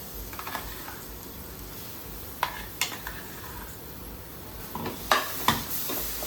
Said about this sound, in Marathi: आता आपलं वाटण चांगलं परतवून घेऊया